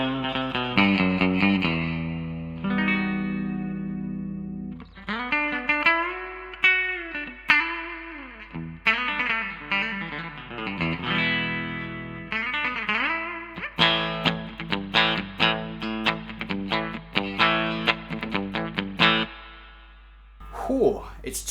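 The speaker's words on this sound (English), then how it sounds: "Bridge pickup sounds good." A Fender MIJ Jaguar electric guitar on its bridge pickup runs through effects, playing distorted, chorused chords and single notes, some bent. The phrases are loud and close, with short gaps between them.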